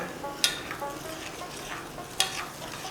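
A spoon stirs jaggery with a few spoonfuls of water in a pot to dissolve it for pitha batter, soft scraping strokes with two sharper clinks against the vessel, quiet and close.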